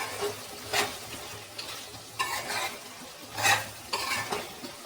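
A spoon stirs chicken as it fries in butter for a chicken gravy. A soft sizzle runs throughout, with several louder scraping strokes against the pan at irregular intervals, close up and without speech.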